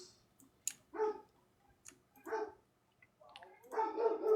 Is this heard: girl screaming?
no